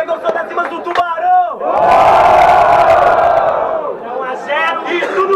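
A crowd at a Brazilian freestyle rap battle erupts in loud cheering and shouting for a few seconds, swelling then fading back into scattered voices and whoops.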